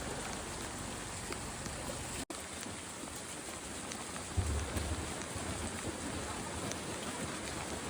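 Steady rain falls throughout during a monsoon downpour, a dense continuous hiss of drops on surfaces with a brief dropout early on and a low thump partway through.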